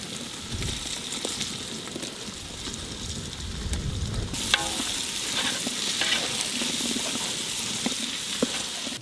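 Tomatoes and masala fry and are stirred in a pan for a prawn biryani, a steady close sizzle broken by scraping spoon strokes that grow livelier after the tomatoes go in.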